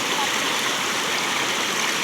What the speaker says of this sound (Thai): ลำเส้นบางยังเป็นสาขาของแม่น้ำคลองที่สำคัญ